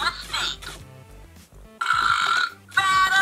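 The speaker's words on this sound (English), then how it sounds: "Battle belching!" A TMNT Babble Heads Mikey talking toy plays loud electronic belches in two bursts, separated by quieter gaps, with a cartoon voice speaking around them.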